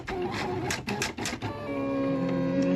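A Silhouette Cameo 3 vinyl cutting machine whirs and clicks with rapid mechanical ticks, then settles into a steady motorized hum with shifting tones, close and moderately loud.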